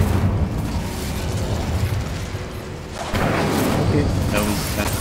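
A spell blasting fire in the Hogwarts Legacy video game gives a rumbling, roaring whoosh that swells and grows louder about halfway through, dense and close, with a voice talking over it.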